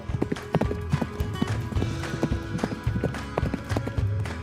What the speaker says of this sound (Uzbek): Bu esa ot choptirishdi.